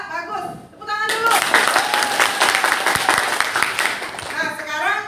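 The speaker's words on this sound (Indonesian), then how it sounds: "Tepuk tangan dulu" Classroom applause bursts out after brief teacher speech, a dense steady clapping from a group of students lasting several seconds before talk resumes over its fading end.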